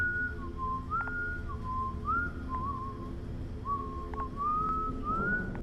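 A simple, almost cheerful melody is whistled in short sliding phrases, moderately clear over a steady low background hum, with no voices.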